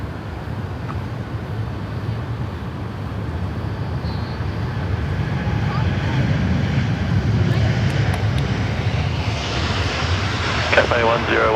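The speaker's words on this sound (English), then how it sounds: "The United 842 heading off to Los Angeles." A United airliner takes off from Sydney Airport for Los Angeles, its jet engine roar building into a loud, rising rumble, with people talking and radio chatter faintly over the noise.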